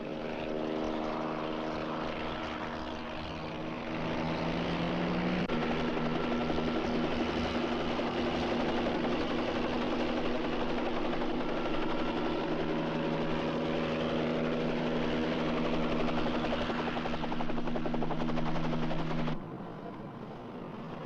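A helicopter drones steadily overhead, its rotor and engine hum holding loud and constant for a long stretch before easing slightly at the end.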